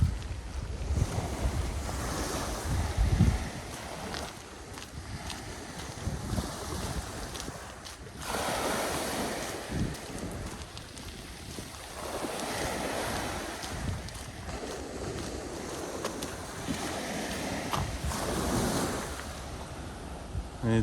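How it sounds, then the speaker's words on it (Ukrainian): Sea waves wash onto the shore at Konyaaltı Beach, Antalya, Turkey, in repeated surges, with wind buffeting the microphone throughout. "давайте я вам морька покажу, хай шумить море."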